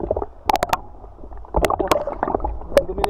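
A small boat rides strong sea waves at night, with close sloshing, gurgling and splashing water knocking against the hull in uneven bursts.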